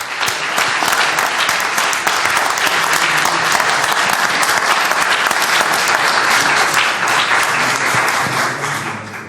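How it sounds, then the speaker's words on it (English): A crowd gives steady, dense applause at a Madison, NJ borough council meeting honoring a school golf team, loud and continuous for several seconds before thinning slightly at the end. "let's have another round of applause"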